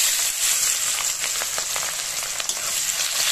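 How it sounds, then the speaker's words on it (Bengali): Chopped onion goes into hot oil with whole bay leaf and whole garam masala, a loud, continuous close sizzle with some stirring scrapes, no voices. "এবার দিয়ে দেবো কুচানো পেঁয়াজটা।"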